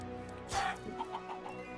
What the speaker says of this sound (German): Hier sind die Hühner.